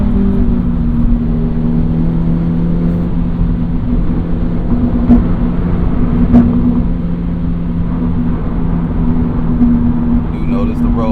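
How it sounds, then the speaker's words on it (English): Cabin road noise inside a Toyota GR86 on the move, a constant low droning hum with steady engine tone beneath it and a few faint knocks. "You notice the road noise up in here. It's louder"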